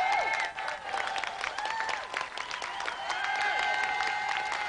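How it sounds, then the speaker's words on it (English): Studio audience round of applause on a British television video game show, continuous clapping with cheering and whistles across the whole stretch, fairly loud and close. "Let's have another round of applause there for Paul Davis and Dave Goodyear."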